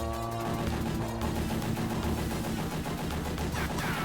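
Rapid arcade gunfire from Metal Slug rattles in a dense, continuous barrage, loud and unbroken, with layered game effects and music beneath it.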